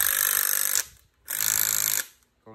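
A Makita 10.8V cordless hammer drill runs loudly in hammer mode in two bursts, each a rapid buzzing rattle close to the microphone, stopping abruptly between runs.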